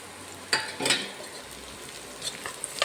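Sliced onion with green chili and ginger frying in a pan give off a faint, steady sizzle, broken by a few sharp stirring scrapes near the start and toward the end.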